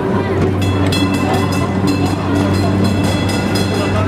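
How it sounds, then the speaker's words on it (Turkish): A tram rolls past close by on a busy street in Beyoğlu, Istanbul, with a loud steady rumble and hum carrying a regular clicking rhythm of wheels over the rails. "yine hem aşağıdan hem yukarıdan tramvayları geçtiği Beyoğlu'ndayız"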